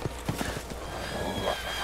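Horses in a Resident Evil Village gameplay session, hooves clip-clopping with a neigh among the game's background noise, moderately loud for under two seconds.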